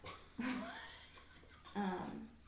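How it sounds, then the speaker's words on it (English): Dog whimpering and yipping with breathy whines in two bursts, close by, while it spins chasing its own tail indoors in an apartment; a faint voice may be under it. "this dog is trying to catch his tail"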